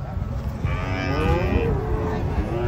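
A large bull moos as it is unloaded from a truck, one long, loud, close, drawn-out bellow over steady background rumble and crowd noise.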